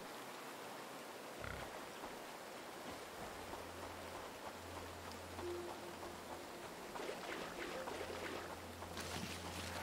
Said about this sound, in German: Oh, jetzt regnet es wirklich.